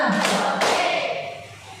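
A group clapping in a counted hand-clap exercise: a couple of sharp, close claps in quick succession, followed by a fading room echo.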